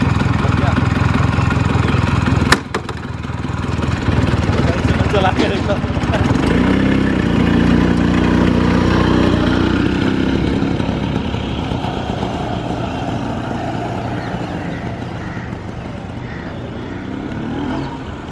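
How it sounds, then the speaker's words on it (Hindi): A scooter engine starts with a brief burst and settles into a steady, rumbling idle up close, continuing for the rest of the stretch while voices occasionally talk over it. "स्टार्ट कर दे भाई, स्टार्ट कर।"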